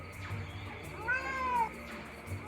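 A cat meows once in the point-and-click game Secret Files: Sam Peters, a clear, drawn-out meow in the middle over faint background ambience.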